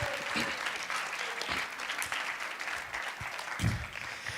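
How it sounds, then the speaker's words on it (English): Audience at a camp night gathering breaks into steady applause, a dense wash of clapping that holds at an even level throughout with a brief louder swell near the end. "Go ahead, give them a round of applause, guys."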